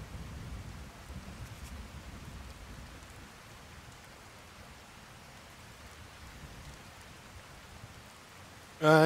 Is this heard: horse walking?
no